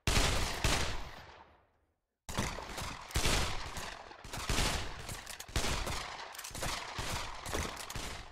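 Loud, close gunfire from the Pavlov VR shooter game: a long automatic burst that decays to silence, then resumes as sustained rapid fire with short gaps between volleys.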